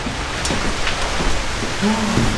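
Steady rain falls outside a castle at night, a close, dense hiss of drops on surfaces that continues without a break.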